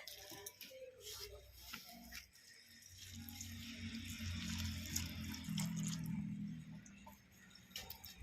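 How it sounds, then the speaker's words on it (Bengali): Hot water poured over dried shrimp in a village kitchen, a steady close splashing pour with light drips and some background clatter, with no speech. "এবার আমি এখান থেকে জল তুলে নিচ্ছি, জল গরম হয়ে গেছে। দিয়ে দিচ্ছি চিংড়ির মধ্যে।"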